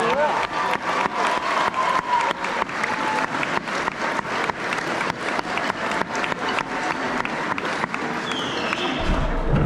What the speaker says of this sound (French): un tonnerre d'applaudissements aussi pour tous ces contramestres